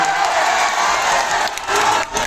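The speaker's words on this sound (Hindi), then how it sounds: "टुनटुन ईरान के लिए जोरदार ताली।" A crowd at a Bhojpuri stage program in Bisunpur claps and cheers loudly, a dense continuous roar of shouts and applause that holds steady before dipping briefly near the end.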